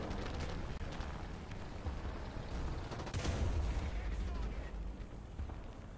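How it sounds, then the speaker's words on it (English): Rapid, continuous gunfire from a video game shootout, dense and steady throughout with a heavier burst midway, muffled and booming rather than crisp, with no clear speech over it. "Hey, I shot him 3 times."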